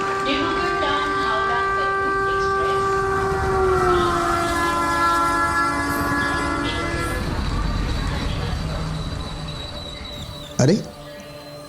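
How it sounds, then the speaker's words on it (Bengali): An express train pulls in at a railway platform, a sustained horn tone sliding lower as it nears, with rumbling carriage noise and a sharp brief clatter near the end. "এক্সপ্রেস তিন নতুন প্ল্যাটফর্মে এসে গেছে"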